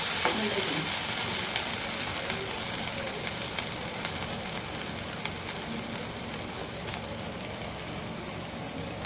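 A vegetable curry with ground green gravy sautés and sizzles in a pan, a steady close frying hiss with occasional faint scrapes and clicks from stirring, no talking.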